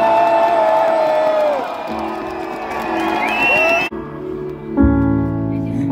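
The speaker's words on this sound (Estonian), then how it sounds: "teeme nüüd sellise kisa, et need ka kuuleks, kes meid täna ei saanud kahjuks kaasa tulla" A crowd at a rally on Freedom Square shouts and cheers loudly. Layered voices whoop and yell together, and a sustained roar carries on after a brief dip.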